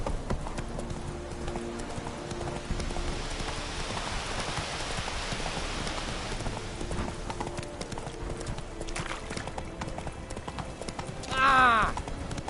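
Hooves of Roach, the horse in The Witcher 3, clop in a steady galloping rhythm under a rain-like hiss, with a short burst of voice near the end.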